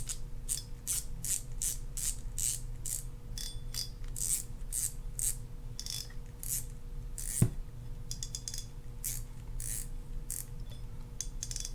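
A Shimano Stradic Ci4 4000F spinning reel has its drag tested, giving a rapid run of sharp mechanical clicks close up, with a single louder knock partway through.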